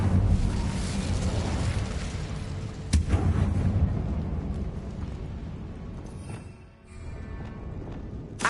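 The Incendio fire spell cast in the Hogwarts Legacy video game, a roaring, rumbling burst of flame with a sharp crack near the start, sustained and loud before fading, followed by another softer flare.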